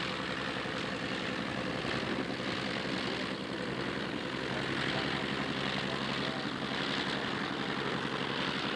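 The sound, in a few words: de Havilland DH-89B Dominie biplane flying at airshow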